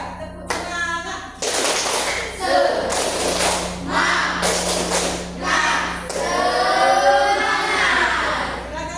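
A classroom of standing students performs the 'tepuk semangat' clap chant, bursts of sharp hand claps in a rhythmic pattern mixed with shouted group voices, loud and close in a reverberant room.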